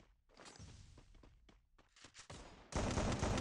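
Gunfire during an online shooter video game match, a few sharp shots and thumps at moderate level, ending in a loud sustained burst of fire.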